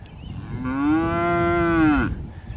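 A cow mooing in a farm field, one long, loud, tonal low that rises and then falls off, close by against a light outdoor background.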